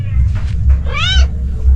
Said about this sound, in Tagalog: Ito yung pusa.